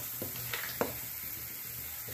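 Spices and golden-browned onions fry in a pan, with turmeric, red chilli, coriander powder and kasuri methi; a soft steady sizzle with a few stirring scrapes and taps.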